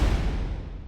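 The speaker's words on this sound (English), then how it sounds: "And then we have a big trailer hit," A massive, booming cinematic impact with heavy low-end weight, decaying into a long rumbling tail over about a second.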